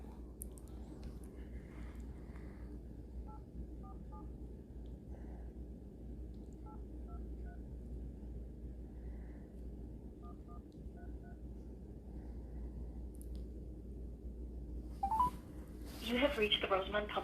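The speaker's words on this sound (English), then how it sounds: "I'm going to dial separately with my phone" Telephone keypad tones dialed by hand on a phone, a sparse series of short beeps spread over the clip above a steady low hum, with a brief burst of louder noise near the end.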